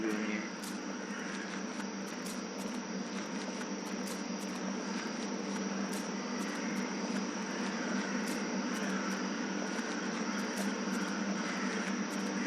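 Ocean ambience from the point-and-click horror game The Last Door: a steady, even wash of broadband noise that holds at a constant level throughout, with faint high chirping ticks scattered across it and no talking.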